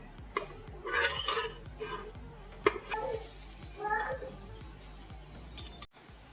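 Pudla batter cooking on a nonstick pan, with a soft sizzle under repeated scraping and clinking of a utensil against the pan, ending abruptly.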